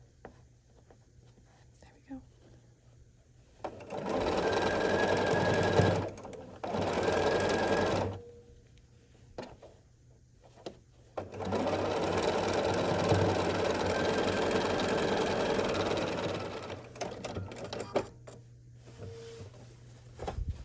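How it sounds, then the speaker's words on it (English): A sewing machine stitches a scrappy sampler quilt block in two close, steady bursts of rapid whirring, one short and one longer, with quiet pauses and faint handling sounds between them. "And we're gonna sew here."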